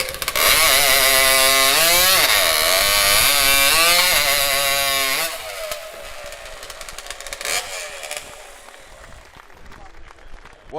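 A STIHL chainsaw screams at full revs through timber in a New Zealand timbersports pro race, its pitch dipping and climbing between cuts. It then drops away to a lower rumble under crowd noise and a commentator's voice.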